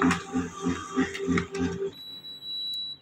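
A Canon LBP252dw laser printer prints a page double-sided, with rhythmic mechanical feed pulses and whirring for about two seconds, then a steadier motor hum and a faint high whine as the run winds down.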